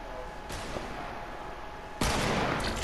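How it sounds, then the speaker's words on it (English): Gunfire in the video game Fortnite: a steady wash of shots starts early and then jumps to a louder, denser volley near the end, with no speech. "I want to shoot you, Mira."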